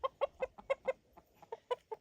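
Chickens on a farm, with a rooster nearby, cluck in a quick, steady run of about a dozen short calls, fairly close and clear against quiet wind.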